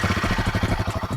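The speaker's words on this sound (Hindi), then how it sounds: "इस तरह की कुछ आवाज है भैया हिमालयन 450 सीसी बाइक की" A Royal Enfield Himalayan 450 motorcycle engine idling nearby, a loud rhythmic low thumping pulse that stays steady throughout with no speech.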